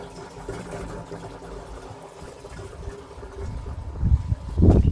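A small electric water pump bought from AliExpress pushes water through a hose, a low steady hum and gurgling flow that grows louder and more turbulent toward the end, with no talking.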